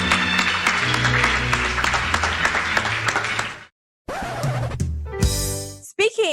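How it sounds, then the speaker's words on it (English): An audience gives a round of applause after a performance, a dense burst of many hands clapping. It breaks off suddenly, and then brief scattered clatter follows. "I do believe they deserve another round of applause"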